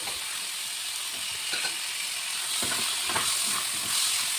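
Tomato and potato with packet chicken masala fry in a pan, a soft continuous hiss with a few stirring clicks and light spatters, fairly quiet and without talk.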